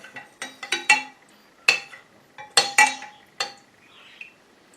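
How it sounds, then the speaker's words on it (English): A spoon clinks repeatedly against a container while quickly stirring a jelly mixture topped up with cool water: about a dozen bright, sharp taps in uneven bursts, close and clear, the last ones fading into quiet. "Okay, quick stir."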